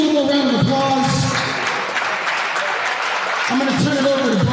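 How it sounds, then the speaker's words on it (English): A crowd in a gym before a men's basketball game applauds in a steady, moderately loud patter, while a voice speaks over the clapping at the start and end. "Give me a little more round of applause."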